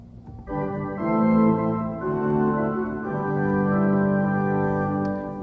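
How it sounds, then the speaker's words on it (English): A chancel organ's 2-foot stop, an extension of the stopped diapason, sounds bright, sustained chords that shift every second or so, steady and fairly loud in a resonant room, with no talking. "Which is an extension of the stop diapason."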